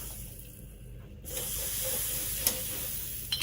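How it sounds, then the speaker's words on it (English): Butter sizzling on a hot double waffle iron, a quiet hiss that jumps into a loud steady spray-like sizzle partway through, with small clicks toward the end. "We just need to put some butter on there, so that way the waffle is not going to stick."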